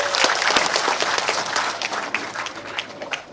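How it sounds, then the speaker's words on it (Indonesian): Audience at a political speech event applauds a union leader, many hands clapping loudly and densely with distinct sharp claps scattered through, gradually thinning slightly toward the end, no talk over it. "Bu Evi, boleh tepuk tangan untuk beliau."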